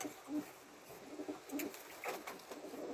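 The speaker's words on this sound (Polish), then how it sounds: "pokażę Wam wszystkie po kolei, jak wyglądają gołąbki." Pigeons coo softly in a loft in several short, low, throaty bursts that are spaced apart. The sound is faint and close, and no one speaks.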